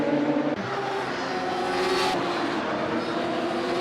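Radical SR3 race cars at Mugello in the racing game Assetto Corsa give a loud, continuous engine roar, with a gear change near the start and the pitch climbing as they accelerate.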